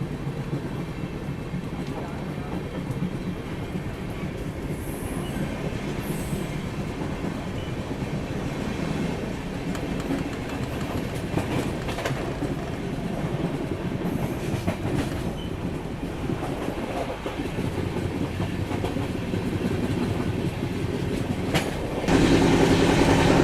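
A train pulls away hard on a main line, a steady rumble with rail clatter building over about twenty seconds, close and continuous, rising louder near the end.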